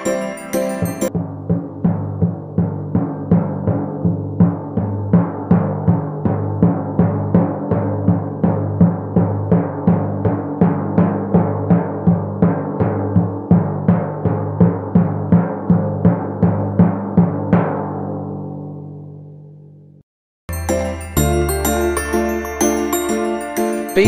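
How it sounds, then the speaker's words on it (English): A timpani, or kettle drum, struck with mallets in a fast, even roll of ringing low-pitched strokes that holds steady, then fades out, before a fresh loud strike rings out near the end. "Timpani is usually played in pairs and its sound is produced by striking its drum head with a mallet."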